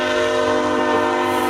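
A loud, sustained train horn blares steadily, a rich multi-tone chord holding without a break.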